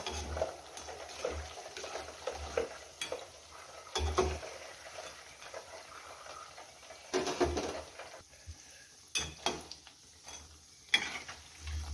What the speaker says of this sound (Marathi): तर आपण हे भजी सोडलेले आहेत तेलामध्ये मस्त असं तळून घेऊया